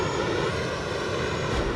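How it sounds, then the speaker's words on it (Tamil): A jet aircraft engine in the Call of Duty Mobile video game gives a steady, loud, broadband roar with no break and no voices over it. "எவனோ ஒருத்தன் ஜெட்டை கிளப்பிட்டான்"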